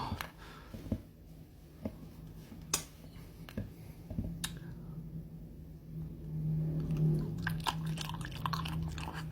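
Chewing sounds from eating thua nao, a sticky Thai fermented soybean snack: soft, moist mouth noises with a few sharp crisp clicks, close to the mic and without talk, growing a little louder and busier toward the end.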